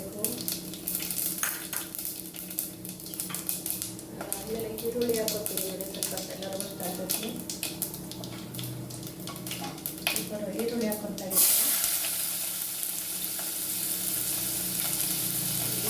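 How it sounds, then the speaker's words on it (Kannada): Garam masala sizzles and roasts in hot oil in a pan while being stirred, a steady frying crackle with scraping under someone talking, then a louder hiss as more goes in, while cooking aloo rice. "ಆಯಿಲ್ ಹಾಕಿದ್ಮೇಲೆ ಗರಂ ಮಸಾಲ ಎಲ್ಲ ಇದೆಯಲ್ಲ ಇದೆಲ್ಲ ಹಾಕ್ಕೊತಾ ಇದ್ದೀನಿ"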